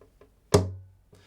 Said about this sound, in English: on beat 1, we use this finger to tap the body of the guitar.